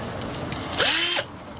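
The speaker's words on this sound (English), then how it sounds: "And see if I can drill this other hole." A cordless drill bores a hole while custom brackets are made for a diesel heater: one short burst of motor whine that rises quickly, holds steady for under half a second, then cuts off, loud and close.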